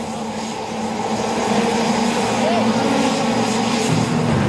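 A jet fighter and a Bugatti Veyron launch in a drag race, with a loud, steady engine roar building and holding, close and continuous.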